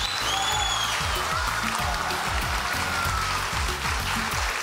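Studio audience applause on a Turkish TV dance competition show: a steady, dense wash of clapping hands that fills the room evenly throughout, with faint music underneath and no speech on top.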